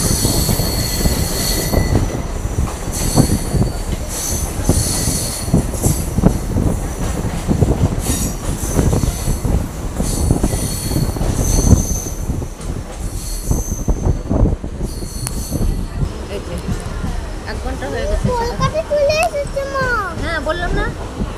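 A passenger train runs on rails near Kolkata, heard from inside the carriage: continuous loud rumbling and clattering with metallic wheel squeal throughout, and faint voices in the background.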